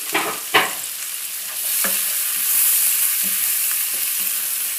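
A steady sizzle of onions and garlic frying in butter, with a few scraping stirs of a utensil against the pan early on.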